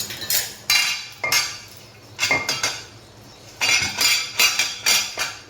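Metal cooking pots and pans clatter and clank in a home kitchen as a pot is covered, sharp ringing knocks arriving in irregular bursts with short quiet gaps between them.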